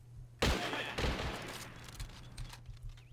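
Gunfire in the World War II strategy game Men of War: Assault Squad 2, Japan against Commonwealth troops: a sharp burst opens a rattling volley that trails off into scattered distant shots.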